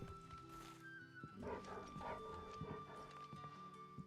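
A dog in the Final Fantasy 16 video game barks and whimpers in short bursts over a soft in-game ambient bed with tonal music, fairly close, no speech.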